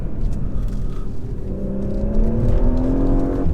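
A two-ton Porsche Macan S, petrol, with PDK gearbox, corners hard and then accelerates, its engine note rising steadily in pitch from a low rumble over road and tyre noise, close and loud.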